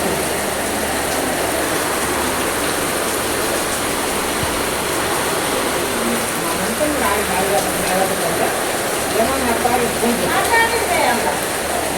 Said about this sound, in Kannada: 10 ನಿಮಿಷ ಆಯ್ತು ಮಳೆ ಹೊಡೆಯಕಚ್ಚಿ